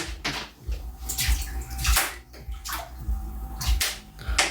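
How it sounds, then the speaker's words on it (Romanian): Water stirred and sloshing in a bathtub during an indoor fishing game, with a fishing rod used like a spear; repeated splashy surges and swishes come in an irregular rhythm, close by, with no talking. "Ia o mai tulbura apa, auziți,"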